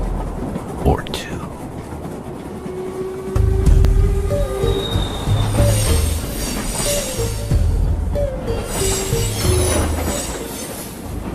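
A train in an action movie rolls along with loud metallic wheel squeal and rumbling, joined by rising tonal screeches and rhythmic rail clatter, heavy and close, with a low engine drone underneath and no clear talk.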